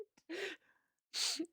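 One sharp sneeze bursts out, preceded by a short inhaled gasp, then a second breathy burst follows after a brief pause, faint and close in a quiet room.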